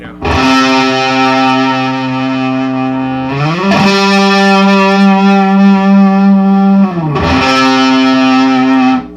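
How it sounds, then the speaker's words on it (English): Loud, thick fuzz-distorted electric guitar power chords, sustained and droning, with two quick chord changes ringing out between long held notes. "Then the Fuzz. I really only use this for power chords."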